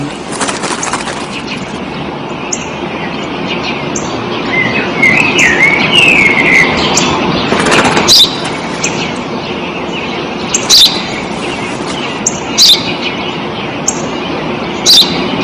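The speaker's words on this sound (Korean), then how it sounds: "Ένα Σπουργίτη είναι, πατέρα." A sparrow gives short, sharp chirps, spaced irregularly over a steady background hiss, with one brighter warbling call near the start and a faint passing car rumble.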